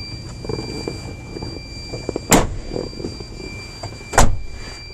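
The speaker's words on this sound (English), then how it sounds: "shut the door so we can get a little better lighting." Two sharp thuds of a van door being shut stand out against a steady hum inside the vehicle, each a brief close impact.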